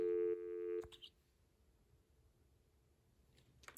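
An AT&T 1506 desk phone from the early 1990s, with its cassette answering machine, gives a steady tone for most of the first second, then a short beep and a faint click after the 9 is pressed.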